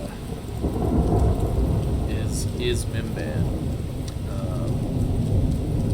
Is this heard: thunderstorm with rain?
yes